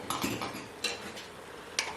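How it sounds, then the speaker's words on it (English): Spoon stirring drained potatoes in a pot while vegetable beef soup is prepared for canning, with a few light clinks and scrapes of utensil on metal, quiet and close, no one speaking. "And stir this up."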